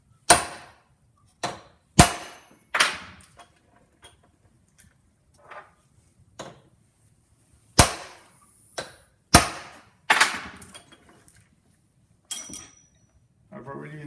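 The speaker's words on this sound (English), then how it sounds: "And since it's a stake nut, stake both sides." Sharp metal hammer blows stake a nut on a Land Cruiser transfer case during a rebuild. The strikes come singly or in quick pairs with pauses between them, are loud and close, and ring briefly.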